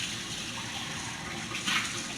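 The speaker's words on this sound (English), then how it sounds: "we go ahead and wash the bowl out that we originally had the cashews in" Water rushes steadily into a bowl that held cashews as it is rinsed out, a continuous close splashing wash with a brief louder surge near the end.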